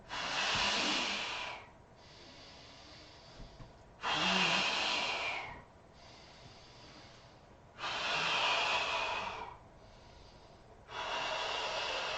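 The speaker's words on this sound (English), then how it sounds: "So I'm going to exhale. Watch my stomach." Three long, forceful breathy exhalations during a Pilates breathing and core engagement exercise, each lasting about two seconds, separated by quieter inhales, close and clear with no talking.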